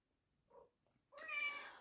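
An old senior pet cat meowing softly nearby, a faint short chirp followed by a louder drawn-out meow in a quiet room.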